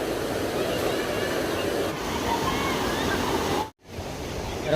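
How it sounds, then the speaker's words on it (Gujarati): Broad, steady rush of the Tapi river flowing near Galteshwar Mahadev, a constant close roar of moving water with one brief dropout, no voices standing out above it. "હા છે મિત્રો તાપી નદી."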